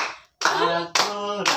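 Hand clapping in a classroom teaching session while Garuda Pancasila is sung, sharp rhythmic claps landing roughly every half second, mixed with the singing voice.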